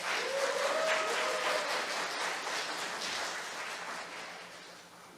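Audience applause in a hall at a Korean real estate academic conference, dense steady clapping that starts full and gradually fades over about five seconds, no talking.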